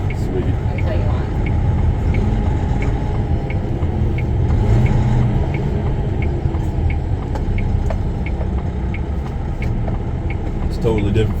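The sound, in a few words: Scania S13 truck driving on the highway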